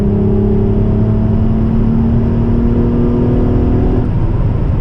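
Acura TL SH-AWD with a new exhaust and resonator delete, engine droning loud and close at steady revs with a strong low rumble, its tone shifting and falling near the end.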